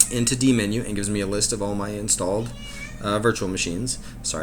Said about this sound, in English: that's my cat in the background.